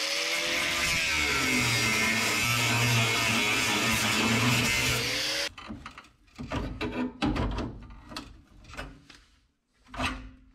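A power chisel rasps loudly and continuously against the floor pan of a 1961 Parkwood wagon, then stops, leaving scattered scrapes and metallic knocks.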